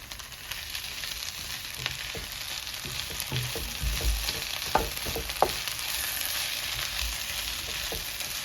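Tomatoes and fennel seeds frying in a pan give a steady close sizzle, with scattered clicks and scrapes of stirring throughout and no talking.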